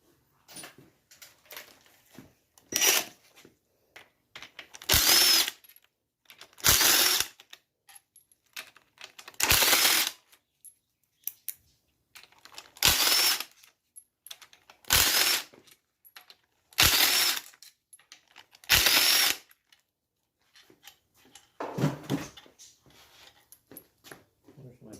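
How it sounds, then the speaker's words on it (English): Metal tools clink and rattle in short repeated bursts, with ratchet-like clicks, while an oil pump is removed from a Honda V6 engine during a teardown. "Now that the pickup is gone, we can remove the oil pump."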